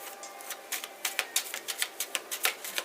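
Tarot cards being shuffled by hand: a close, quiet run of crisp, rapid papery flicks and taps comes in irregular bursts, with no one speaking.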